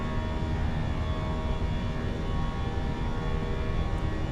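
Continuous engine drone of a Fenix A320 airliner in Microsoft Flight Simulator 2024 at cruise, a steady layered hum with tonal whine, no talking.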